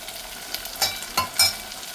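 Tomatoes and green chillies frying in a pan for a Kerala-style shrimp roast: a quiet sizzle carries a few distinct louder crackles and spatters spaced out over two seconds.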